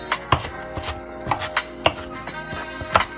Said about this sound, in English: I'm not cutting these up real fine. I like to taste my onions.